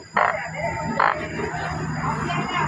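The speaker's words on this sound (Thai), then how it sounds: "อึ่งอ่าง" Banded bullfrogs at an outdoor market give two short, loud, nasal croaking calls about a second apart, over steady market hubbub and a faint background hum.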